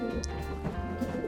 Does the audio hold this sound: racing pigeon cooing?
yes